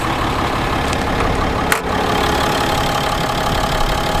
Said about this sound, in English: I always liked the sound of a diesel.